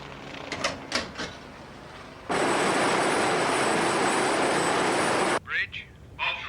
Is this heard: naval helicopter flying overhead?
yes